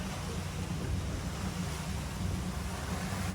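Boat wake churns behind a 33ft express cruiser, a steady rushing wash of water mixed with wind noise across the microphone, continuous and fairly loud.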